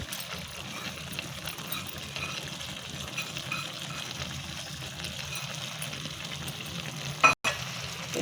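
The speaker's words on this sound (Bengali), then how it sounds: "এবার এটা কড়াতে কষা হয়ে গেছে।" Rice and masoor lentils sauté in a wok for vegetable biryani, a continuous moderate frying hiss with soft stirring, briefly cut by a sharp click and a moment of silence near the end.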